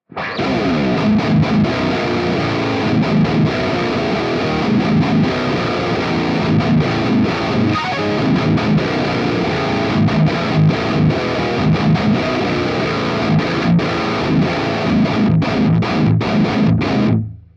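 Heavily distorted electric guitar through a Fractal high-gain amp model, Recto-like, plays thick, chunky palm-muted riffs continuously, loud and dense with a saturated high-gain tone.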